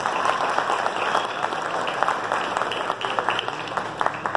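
Theater audience applauding at a singers' show in Araçatuba, Brazil, a steady wash of many hands clapping with scattered sharper claps, continuous and fairly close throughout.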